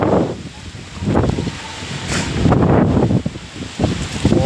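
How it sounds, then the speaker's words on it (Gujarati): Strong storm wind gusts in waves with rain, roaring and rustling through trees outdoors during an unseasonal thunderstorm, loud and continuous with no talking. "કેવો પવન આવ્યો"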